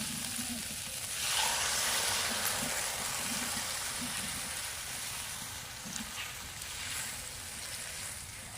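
Ilish fish masala sizzling steadily in a pan as water is poured in, a broad continuous hiss swelling briefly with the pour and settling back, with no voices.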